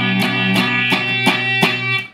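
An acoustic guitar chord strummed five times in a steady rhythm in first position, the strings buzzing and partly muted by poorly placed fingers, ringing close and fairly loud with no voices.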